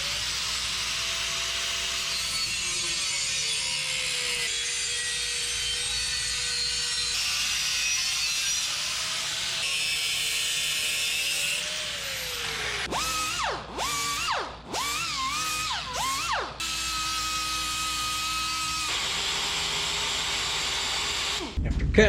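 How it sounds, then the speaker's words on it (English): An abrasive cutoff wheel slices short metal pieces clamped in a vise during a Model A car build, giving a steady loud grinding whine, then several short separate cuts near the end. "After cutting that, especially with the cutoff wheel, it ain't the prettiest."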